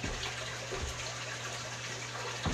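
Steady trickle and splash of water running into a piranha fish tank, a constant close gushing wash with a low steady hum underneath, no voices.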